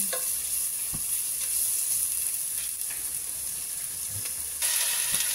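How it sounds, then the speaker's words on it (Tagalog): Chicken stir-frying in oil with ginger gives a steady close sizzle, broken by a few scraping, clanking stirs of a utensil in the pan, with no voices. "Yan, lagyan na yung chicken. Isasangkot siya."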